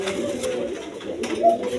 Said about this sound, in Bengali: এইখানে এক পেয়ার বোম্বাই কবুতর আছে, দেশি বোম্বাই দেখেন